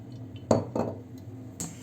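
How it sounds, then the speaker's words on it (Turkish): A pilaf pan is set down on a home kitchen stove with a few short metallic clanks and knocks, close and moderately loud, with no voices. "Pilav tavamı buraya koyuyorum."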